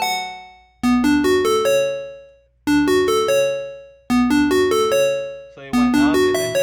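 Bass bell synth preset from Massive playing a short melodic phrase: four bright, ringing struck-bell notes with sharp attacks, each decaying slowly over about two seconds, loud and alone with no talk.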